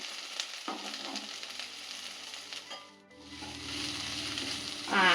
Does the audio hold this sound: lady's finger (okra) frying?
yes